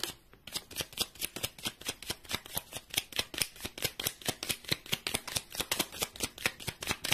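Playing cards shuffled in a fast, steady riffle, a long run of crisp rhythmic flutters repeating close and alone for several seconds before a draw.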